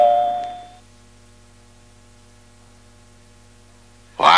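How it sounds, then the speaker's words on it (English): A single electronic beep tone sounds at the start, then fades into a low steady hum before a sudden loud burst at the end. "leave a message at the sound of the beep"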